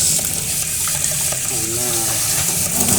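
Water running from a kitchen sink faucet, a loud steady gushing stream filling the whole short stretch.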